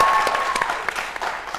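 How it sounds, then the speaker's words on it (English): A room full of people applauds a book club in a brief, dense burst of clapping that starts strong and tapers off slightly. "can we get a round of applause for them"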